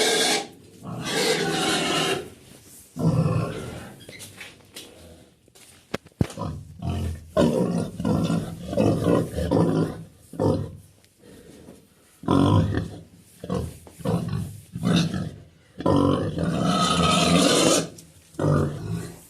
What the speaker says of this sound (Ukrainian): Бо ця кричить якась бешена стала вже дня два.